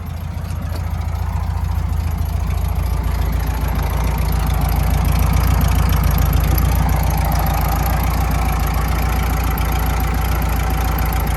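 A 1972 VW Super Beetle's air-cooled engine idles steadily and close by, a continuous low rumble with an even, slightly rough pulse and no other sounds over it.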